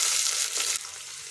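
Sliced onions and spices, cloves, bay leaf and cumin, frying in hot oil, a loud close sizzle that briefly swells, then settles into a quieter steady fry.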